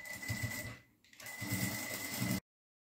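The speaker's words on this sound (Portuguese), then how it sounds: "E já vou fazer uma costurinha de pesponto em toda essa volta aqui para prender a parte principal ao" A sewing machine topstitches around a fabric edge to join the main piece of a zippered pouch to its lining. The close whirring stitching runs in two bursts with a short pause between them, then stops.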